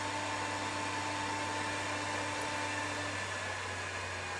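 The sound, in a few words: cooling fan of 1000W electronic load speeding up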